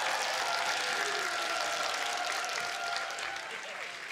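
Studio audience applause on a TV singing show, a steady broad roar of clapping that holds for about four seconds before easing slightly.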